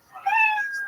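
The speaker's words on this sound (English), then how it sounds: "oh, that's the sound of a kitty that we know" A single short cat meow sound effect, used as a stage-time-up signal, rings out clearly and close, with a bright, drawn-out tone that fades slightly at the end.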